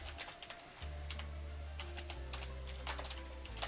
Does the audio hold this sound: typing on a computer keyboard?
yes